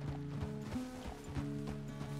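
Horse hooves clip-clop at a steady walking pace in the video game Red Dead Redemption 2, with faint tack rattles over a low ambient background.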